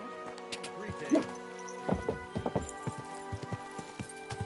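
A horse moves at pace in Kingdom Come: Deliverance II, its hooves striking in quick, uneven clusters close by, with soft ambient game sounds underneath and a possible whinny-like accent early on.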